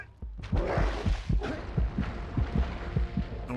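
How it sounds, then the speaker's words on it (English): Heavy heartbeat sound effect from the video game Jak and Daxter: low, booming double thumps repeating steadily over a dense, rumbling game background, loud and without voices. "That heartbeat sound effect, man, that's the real killer."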